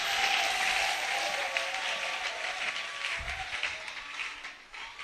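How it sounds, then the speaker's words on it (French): A church congregation applauds loudly for a few seconds, a dense and continuous wash of clapping. "Acclamez bien fort pour les rois des rois."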